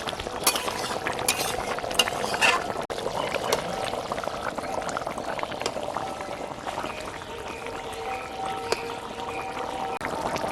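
Water is poured into a pan of prawn and jackfruit curry and stirred, with scraping spoon strokes, a few clinks, and a soft bubbling hiss, close and moderately quiet.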